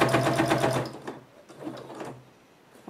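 A sewing machine runs a short, rapid burst of stitching along the sides of a fabric clutch bag used as a coupon organizer, then slows into a few softer mechanical clicks and handling noises.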